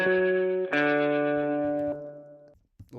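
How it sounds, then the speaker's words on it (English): A dark-toned electric guitar rings through spring reverb, sustaining two struck chords that hang and decay with a splashy tail before a few faint plucks. "It's got quite a dark tone to it, so it's adding spatial stuff like spring reverb, but not extra energy in the high end."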